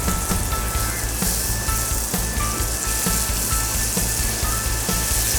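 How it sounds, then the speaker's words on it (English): Loud, steady sizzling of chicken frying in a hot oiled pan, a continuous crackling hiss with small pops throughout. "we wanna hear that sizzle"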